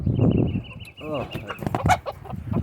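Backyard homestead chickens, freshly let out of their coop, cluck and squawk loudly and close by in quick, uneven bursts, with a thin high whine running beneath for the first half.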